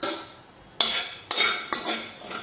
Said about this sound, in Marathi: आपण आता साबुदाणा टाकून घेणार आहोत।